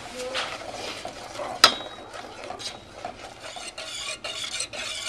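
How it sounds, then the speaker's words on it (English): A whisk scrapes briskly around a pot of roux for macaroni and cheese, producing a continuous close rasping stir with one sharp metallic clink of the whisk on the rim partway through. "we're going to whisk this so it doesn't burn"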